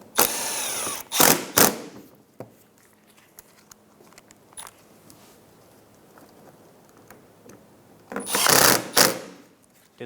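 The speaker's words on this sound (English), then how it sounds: "Install the three Phillips head screws on each side, securing the front fender liner to the bumper." A power driver runs Phillips head screws into the front fender liner at the bumper of a 2007-2012 Nissan Altima: two short, loud whirring bursts near the start and one near the end, with quiet handling sounds between them.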